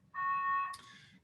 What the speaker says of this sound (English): I think they're testing the fire alarm in the building.